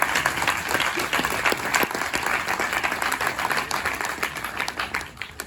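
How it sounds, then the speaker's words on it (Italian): An audience claps steadily and loudly for several seconds at a sold-out presentation at Nuovo Cinema Aquila in Rome, a thick wash of hands with crisp individual claps standing out. "fatevi un applauso."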